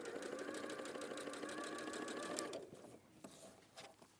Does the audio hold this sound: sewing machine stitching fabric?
yes